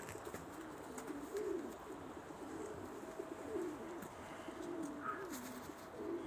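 Racing homing pigeons in a loft giving soft, low coos, several separate calls spaced a second or two apart, faint and near over a quiet background.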